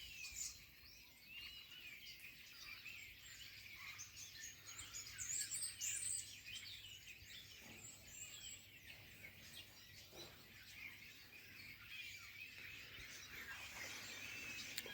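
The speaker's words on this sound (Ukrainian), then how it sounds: "Пташки щебечуть." Soft bird chirps and tweets drift through a steady outdoor background hiss, distant and continuous with no talking.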